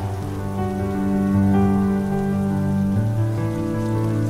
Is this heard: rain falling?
yes